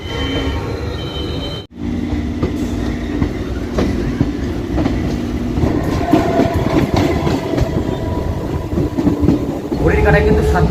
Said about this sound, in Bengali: একদম রাইট টাইমে কিন্তু আমাদের ট্রেন ছেড়ে দিল রানাঘাট থেকে